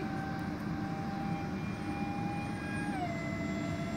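RC model Airbus A330 airliner in flight, its electric ducted-fan whine holding a steady tone before dropping slightly in pitch as the throttle eases, loud and constant without any talk.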